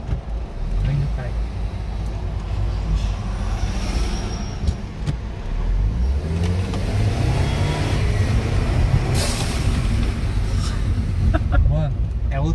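A turbocharged Volkswagen Jetta fitted with a Forge blow-off valve drives and accelerates, its engine droning and rising while sharp hissing vents burst out between revs; someone talks over the car noise.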